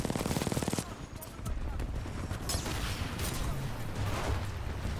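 A rapid burst from an R-97 submachine gun in Titanfall 2, a quick rattling string of shots at the start followed by continuous dense gunfire and game action, loud and close.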